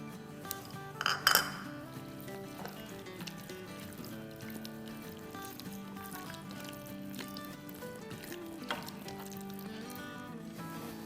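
Mixing yogurt into a chicken marinade with lemon juice in a bowl, a few sharp clinks of a utensil against the bowl early on, then soft wet stirring and scraping at close range, with no talking.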